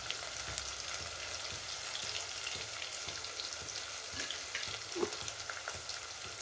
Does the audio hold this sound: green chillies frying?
yes